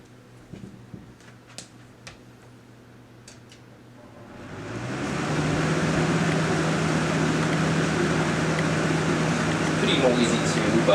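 A 14-inch box fan on high setting spins up after a few faint clicks, swelling into a loud, steady whooshing drone that holds to the end.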